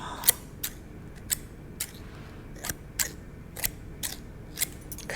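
Hair-cutting scissors snip in a quiet ASMR haircut, roughly ten crisp, close metallic cuts at a steady, unhurried rhythm over a faint background hiss.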